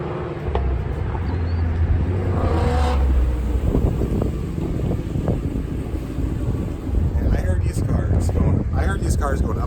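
Ford Mustang GT350 with a Whipple supercharger drives past on a highway, its engine a loud steady roar with wind buffeting the microphone and people talking over it.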